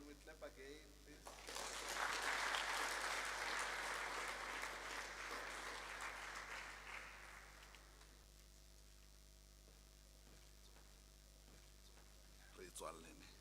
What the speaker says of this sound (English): Can we clap again, please?